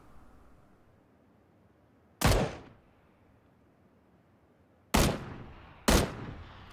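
Gunfire aimed at an enemy in the PUBG video game: three sharp, loud single shots, one alone and two close together later, each with a short decaying tail over quiet background.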